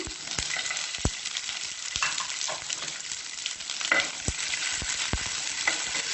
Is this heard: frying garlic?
yes